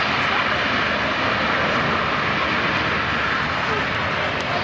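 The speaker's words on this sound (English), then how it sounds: "That's about as much noise as that airplane is ever going to make." A USAF C-17 Globemaster III roars on landing with its engine thrust reversers deployed, a loud, broad, unbroken jet rumble and hiss filling the air at an air show.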